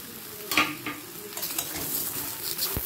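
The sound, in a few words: stirring soybeans and peas in a frying pan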